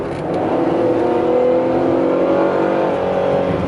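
A 2010 Chrysler Town & Country minivan driving on a test drive, its engine and road noise a loud, steady drone heard from inside the cabin, with no voices.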